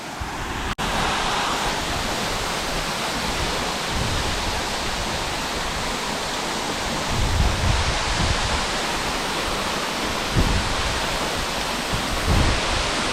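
A waterfall at a sanctuary in Coromandel, Minas Gerais, pours as a loud, steady roar of rushing water, close and continuous with no voices.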